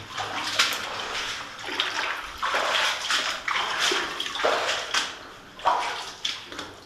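Water running out of the Jack Waite Mine near a small dam, a steady rushing splash with repeated louder surges close by, no talking.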